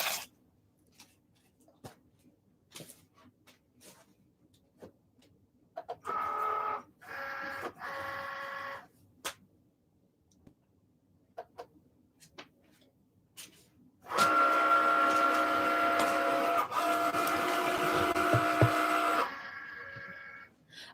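A Cricut cutting machine cuts permanent vinyl, giving a short buzzing motor run and then a longer, steady mechanical whir with faint ticks in a quiet room.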